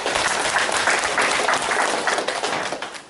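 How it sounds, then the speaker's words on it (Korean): An audience at a Gyeongsangbuk-do provincial citizen jury meeting in the Gyeongbuk provincial government building claps in a dense, sustained round of applause, loud and close, tapering slightly toward the end. "박수 한번 좀 부탁드릴게요."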